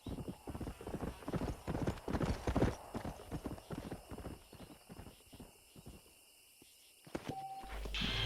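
A stallion's hooves clip-clop in a steady walking rhythm in the Western game Red Dead Redemption, close and fairly loud, slowing and thinning out near the end.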